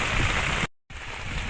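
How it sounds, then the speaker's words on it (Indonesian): Heavy rain pours down on a bamboo shelter at a solo overnight camp on a mountaintop, a steady, dense, close wash of water noise that cuts out briefly for a moment of silence before resuming. "sekarang jadi hujan deras banget tuh"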